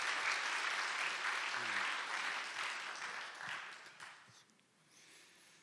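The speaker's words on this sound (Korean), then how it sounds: "한번 박수로 칭찬해" Church congregation at a Sunday service claps warmly in sustained applause that gradually thins and fades out over several seconds, heard somewhat distant in a large room.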